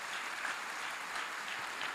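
A church congregation applauding during a sermon, a brief burst of many hands clapping at moderate distance, steady and even throughout, with no voices on top.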